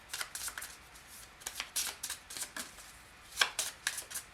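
Cards for the Aeon's End board game are riffled and shuffled in quick repeated bursts of crisp flapping, close and fairly quiet, with no talk.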